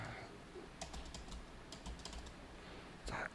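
Computer keys are pressed several times during tax accounting software work, giving short scattered clicks of moderate loudness with no one talking.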